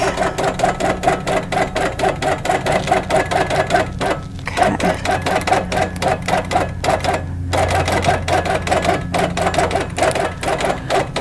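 A longarm quilting machine stitches long basting runs through quilt fabric loaded on point, making a loud, fast, even mechanical chatter that runs continuously with brief pauses and no talk.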